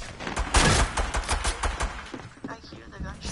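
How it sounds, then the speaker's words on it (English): Rapid bursts of gunfire crackle in quick succession, sharp repeated shots fading toward the end, fairly close and loud. "I hear the gunshots."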